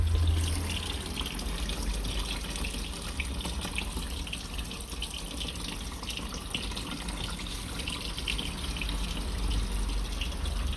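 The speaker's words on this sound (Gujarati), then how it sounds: "પાણી ભરવા માટેનું જુગાડ અહીંયાથી સીધું" Water runs steadily from a pipe into the tank of an air cooler, a continuous close gushing stream with no talk.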